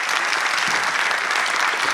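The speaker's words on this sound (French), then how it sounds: "Je pense qu'on peut applaudir nos conférencières." Conference attendees give their speakers a steady round of applause, a full, even wash of many hands clapping throughout, moderately loud and with no talking over it.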